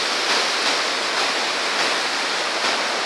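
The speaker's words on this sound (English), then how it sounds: "Rapids." River rapids in Banff, Alberta rush in a steady, loud roar of churning water. The broadband wash stays constant throughout, with no voices over it.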